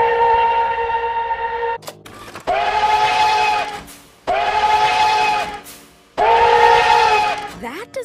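A steam locomotive whistle, NKP 587, with a cracked, harsh tone sounds in three long, loud sustained blasts separated by short gaps, following an earlier blast at the start.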